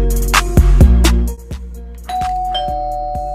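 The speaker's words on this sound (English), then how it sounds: "Why has someone gotta ring the doorbell right now?" A doorbell chimes loudly several times in quick succession, its ding-dong tones ringing out and fading into a steady electronic hum, with no voices over it.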